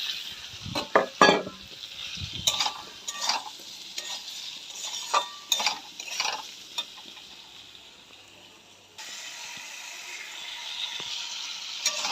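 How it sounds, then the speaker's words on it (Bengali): Potatoes and pointed gourd sauté in a pan, with repeated scraping stirs and utensil clinks over a soft sizzle that quiets briefly before a steadier frying hiss returns, no voices. "আলু আর পটল কষিয়ে নিচ্ছি।"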